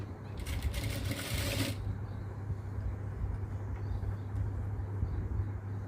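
A sewing machine stitching fabric for a baby dress gives one quick rattling burst of needle stitching, then a low steady motor hum continues quietly.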